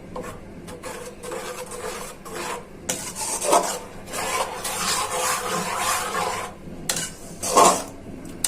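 Green chili sauce stirred slowly in a pan over low heat, with soft scraping and rasping strokes of a spoon against the pan coming in irregular bursts, close and fairly quiet.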